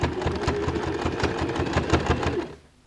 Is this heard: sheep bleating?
no